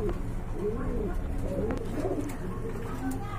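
A pair of American pigeons coo nearby in soft, rolling phrases over a steady background hum, with people talking at the same time.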